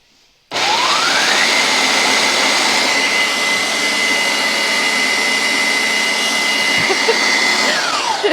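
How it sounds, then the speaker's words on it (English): A dry food processor grinds cashews for raw vegan ramp pesto, starting abruptly with a loud, steady, high motor whine that holds constant for several seconds before cutting out. "And this is in a dry food processor."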